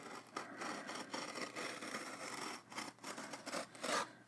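Handheld X-Acto knife slicing open a cardboard shipping package for an unboxing, close, faint scraping and rubbing strokes in irregular bursts, each drag of the blade followed by brief pauses.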